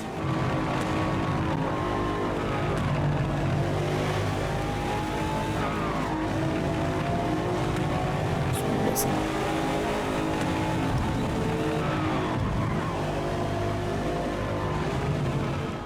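A BMW M8 in the Forza Motorsport racing game gives a continuous loud engine roar with rising and falling revs and shifts, plus occasional tire squeal, steady throughout with no talk.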